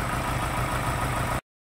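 A Ford Raptor engine idles close by, a dense steady rumble that runs unbroken and then cuts off abruptly.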